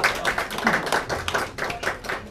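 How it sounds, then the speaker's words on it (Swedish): An audience at a live afternoon music gig claps briefly and warmly, close and fairly loud, in quick overlapping bursts. "Ge han en varm applåd."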